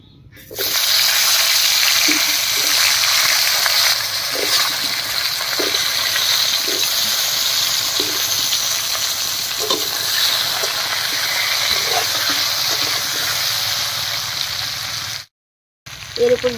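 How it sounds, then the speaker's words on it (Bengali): Pointed gourd pieces fry in oil left over from frying eggs, giving a steady, loud, close sizzling hiss that runs almost without a break before cutting out near the end. "ডিম ভাজার এই তেলের মধ্যে পটলগুলোও ভেজে নেব"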